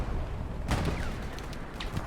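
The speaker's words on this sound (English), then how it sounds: "Artillery is just pounding here." Artillery fire pounding during a multiplayer video game scrim: a muffled, rumbling boom swells midway through a constant low din of battlefield noise, with faint distant cracks trailing after it.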